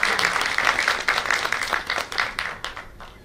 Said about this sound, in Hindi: मैं रिक्वेस्ट करूंगा कि एक जोरदार तालियां हों